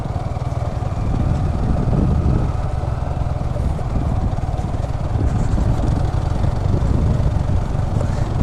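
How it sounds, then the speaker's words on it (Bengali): A motorbike rides across wet sand on a Cox's Bazar beach, its engine a steady, loud, low rumble that runs unbroken throughout, with wind noise and no talking. "বাইকটা এদিক যাচ্ছে ওদিক যাচ্ছে, বালুর কারণে ভিজা বালু।"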